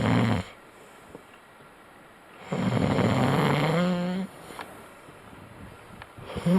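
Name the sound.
man snoring in his sleep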